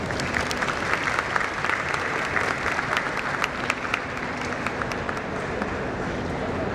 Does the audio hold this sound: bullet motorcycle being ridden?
no